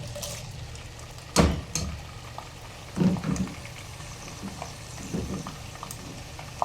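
Pork intestines frying in a pan with ginger: a steady sizzle throughout, with a few louder splattering bursts as pieces are stirred or added, close and without any talking.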